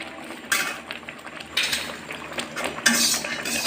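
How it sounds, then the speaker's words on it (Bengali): Peanuts roasting in a metal pan for homemade nadu sweets, with a spatula scraping and clattering against the pan in irregular bursts over a steady background sizzle. "সেই জন্য বাদামগুলো ভেজে নিচ্ছি"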